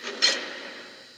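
A door mechanism in a Chuck E. Cheese horror video game gives a brief mechanical clack followed by a fading whir, close and fairly quiet.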